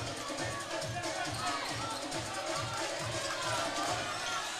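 Crowd at a men's basketball game cheering in an indoor arena, a broad roar of voices with rhythmic stomping or clapping underneath, fairly distant and sustained.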